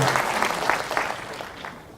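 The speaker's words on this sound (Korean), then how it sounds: "격려 박수 한번 쳐주세요" Applause from the audience at a Korea JC training institute session for the 401st class, a brief, somewhat faint burst of clapping that fades within two seconds.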